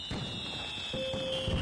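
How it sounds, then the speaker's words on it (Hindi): Firecrackers burst during a Diwali celebration, a few faint, distant cracks and pops over a quiet background with a thin steady tone. "हर तरफ पटाखे की आवाजें"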